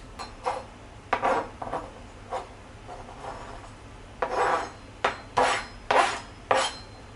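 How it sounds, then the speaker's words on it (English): Kitchen scissors snipping through fresh chilies, a series of short crisp cuts in irregular bursts, close and distinct with no talk. "Just take a pair of kitchen scissors."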